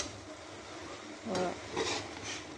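Soft scraping and stirring of vegetables in a pan over a low sizzle, with a couple of louder strokes as ingredients are mixed.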